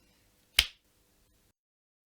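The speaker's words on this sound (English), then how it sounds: "So I'm gonna snap my fingers and go to bed." One sharp, close finger snap in a quiet workshop, crisp and bright, followed by silence.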